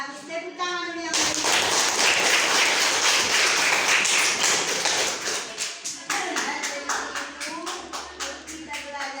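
A classroom of students claps hands together, first in a dense burst and then in a steady rhythmic pattern of sharp claps, with children's voices mixed in.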